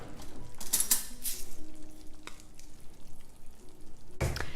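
Syrian meatballs in a pan with a steady frying sizzle, punctuated by a few clinks of a utensil against the pan, close and with no speech.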